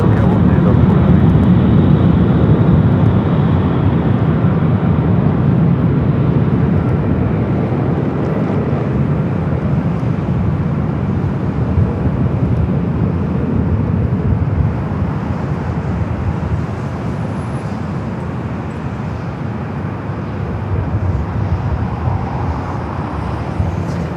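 An airliner at Los Angeles LAX airport gives a steady, loud broadband engine roar that slowly eases off, with voices talking over it.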